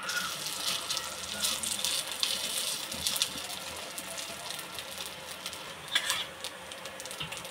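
Sabudana appe balls fry in hot oil in an appe pan, making a steady close sizzle with light crackling and a few brief stirring clinks, and no talk.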